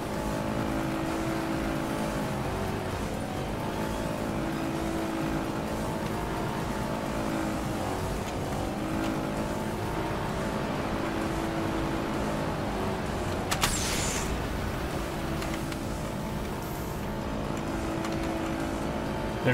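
Race car engines in the arcade racing game Horizon Chase Turbo, a loud, steady, continuous whine with rising and falling pitch as cars accelerate, with a brief sharp burst near the end.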